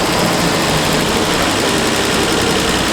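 Car engine with twin Zenith-Stromberg carburetors idling steadily and close, a dense continuous rumble with no voices over it.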